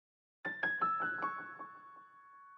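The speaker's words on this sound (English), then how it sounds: "I had this simple piano lead or top line I would say, and it was in the original melody, but I just ran it out just to put a delay on it" A simple piano top line from a melodic trap beat plays a handful of quick notes, then trails off into a fading delay tail, quiet and alone.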